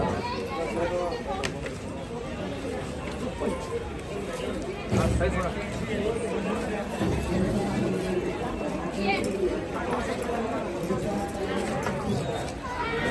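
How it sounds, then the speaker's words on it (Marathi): A packed crowd murmurs and chatters inside the Swami Samarth temple at Akkalkot, with a steady hum of many voices, footsteps and occasional clatter throughout. "तर बघू शकता गर्दी खूप आहे इथं मंदिरात"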